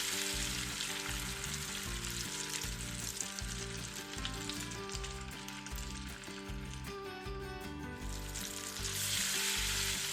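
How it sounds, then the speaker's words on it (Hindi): Ground spices such as coriander and cumin powder sizzle loudly in a pot for chicken korma, a dense continuous frying hiss with scraping from stirring throughout, close up and without speech. "अब इन सब मसालों को अच्छी तरह से मिक्स कर लेंगे।"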